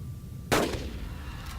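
Hunting rifle firing at dinosaurs in the game Carnivores: Dinosaur Hunter Reborn. One sharp, loud gunshot breaks a quiet ambient background, then an echoing tail fades out.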